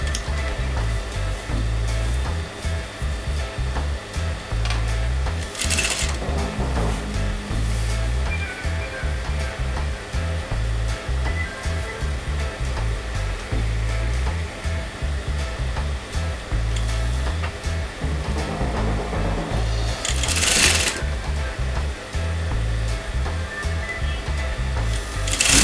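A home sewing machine runs steadily while stitching fabric around a kameez neckline and collar band, a continuous close motor whir holding for the whole stretch with brief louder bursts near the start and again later.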